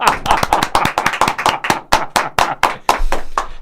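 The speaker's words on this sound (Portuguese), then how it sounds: "E agora tenho os meus amigos bloquistas todos a bater palmas." An audience claps in rapid, uneven bursts, the sharp hand claps close and loud, thinning into slower separate claps toward the end with no voices over them.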